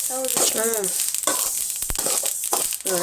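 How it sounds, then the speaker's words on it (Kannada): Sesame seeds roasting in a pan for North Karnataka sesame laddoos give a steady crackling sizzle, with a voice talking over it throughout. "ಚಟಪಟ ಚಟಪಟ ಹೆಂಗಂತ ನೋಡಿ ಚಂದ ಹುರ್ಕೋಬೇಕು ಇವನ್ನ"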